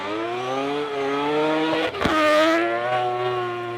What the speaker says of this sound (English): a chance for Marcus van Klink to really show us the power of this Mazda RX-8